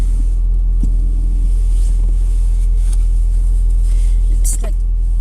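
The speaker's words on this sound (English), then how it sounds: "heating up my car before I go." A car engine idles on a cold, sunny 17-degree day with a constant low rumble close by, heard from inside the car, while a person talks over it.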